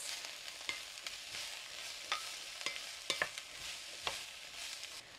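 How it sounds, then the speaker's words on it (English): Chopped vegetables and minced garlic sautéing in a Dutch oven while being stirred, a soft steady sizzle with several sharp spoon scrapes and taps against the pot, close and quiet, no voices. "Let's give this a stir and then we'll saute it just until it gets soft"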